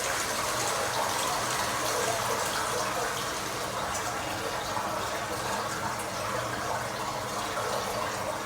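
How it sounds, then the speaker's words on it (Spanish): Water gushes steadily into historic garden ponds and fountains at the inlet point, a loud continuous rushing splash that stays even throughout, with no talk. "El punto por el que entra el agua en los jardines"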